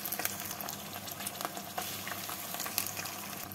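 Onion paste frying in a pan with ginger and garlic paste, a steady close sizzle and crackle with faint stirring scrapes, no voices.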